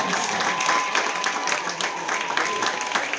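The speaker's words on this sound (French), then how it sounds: "Vos applaudissements pour notre championne de France." An audience at the Lamotte Equifeel 2022 equestrian event applauds France's champion, a dense, steady wash of many hands clapping at close range that holds for the full few seconds.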